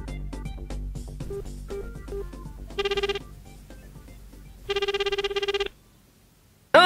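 A telephone rings in two electronic bursts of rapid trilling tones separated by a pause, heard fairly close in a quiet room with faint background sound.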